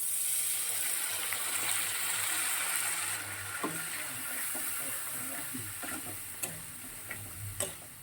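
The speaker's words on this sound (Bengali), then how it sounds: "এবারে দেখো সামান্য একটু জল দিয়ে দিচ্ছি" Water goes into a frying fish curry with turmeric, the loud sizzle dropping suddenly, then quieter bubbling with a few clicks and stirring taps.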